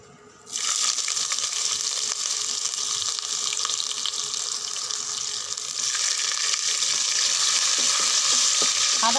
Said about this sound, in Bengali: আদাগুলো ভেজে নেব একটু লাল করে।